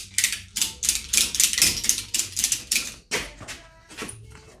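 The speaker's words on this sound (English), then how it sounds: "so I'm going to ratchet this out of my way" Ratchet wrench turned by hand during a clutch job on a 2007-2014 Honda Fit, a close, rhythmic series of rapid clicking bursts repeating in quick strokes, then slowing with a few final clicks.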